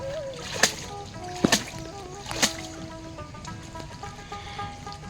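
Cut prawns being washed by hand in water in a Sundarban village, with three sharp close splashes early on, then softer sloshing and trickling, and a faint voice in the background.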